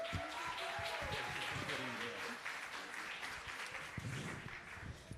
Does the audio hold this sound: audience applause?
yes